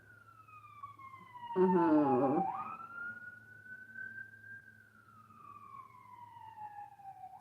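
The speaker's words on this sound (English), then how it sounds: "Sorry, I have a thing about ambulances or police cars and stuff" A police car or ambulance siren passes outside, its long rising and falling wail fairly faint and distant, with a brief spoken murmur partway through.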